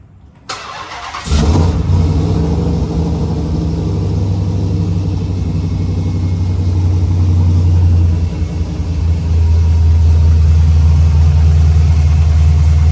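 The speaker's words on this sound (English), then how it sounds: "we're gonna get this thing fired up so y'all can hear this Srt8 Jeep Hellcat" A Hellcat-swapped SRT8 Jeep Cherokee cranks and catches after a brief quiet moment, then settles into a loud, steady, deep idle rumble with a slight surge near the end, close and without talk.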